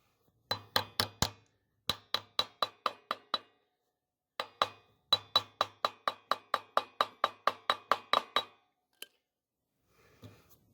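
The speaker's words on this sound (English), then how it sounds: "You want something soft like a dead blow mallet." Dull, sharp taps from a dead blow mallet tapping a cap on a trailer build, in quick rhythmic runs, a dozen or more at a time, separated by brief pauses; close and fairly crisp, with no talking.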